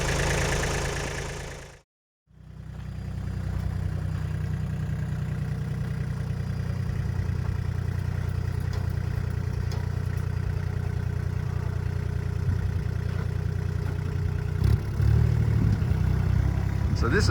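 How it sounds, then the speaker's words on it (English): Farm tractor engine idling close by with a steady low rumble after a brief cutout near the start, holding even throughout with a few small knocks toward the end. "I'll go and put the tractor back onto the next task."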